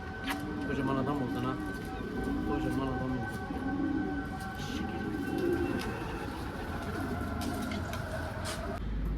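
Pigeons coo repeatedly after their feed, soft rhythmic rolling calls at a moderate distance, with a faint steady tone and background noise beneath them.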